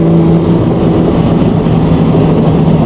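A mid-engined Nissan Micra 350SR with a 300 bhp engine at high speed, its loud, steady drone and sustained tonal hum filling the cabin with no break and no talking.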